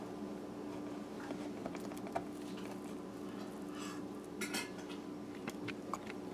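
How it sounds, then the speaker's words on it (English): A knife slicing through set coconut barfi, producing soft scattered clicks and scrapes against a tray, faint and close, with no talking. "So just pass through the knife to separate it like so"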